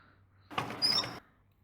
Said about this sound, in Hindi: दरवाजा खोलिए